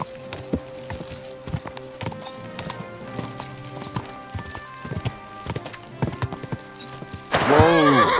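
Horse in the video game Kingdom Come Deliverance 2, steady clip-clopping hooves over ambient game music, ending in a loud, close whinny.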